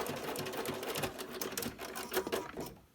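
A sewing machine stitches a cloth face mask with an elastic closure, a fast rattling run of needle strokes with brief pauses, close and fairly quiet, with no talking.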